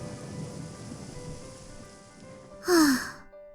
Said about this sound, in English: Ominous thunder.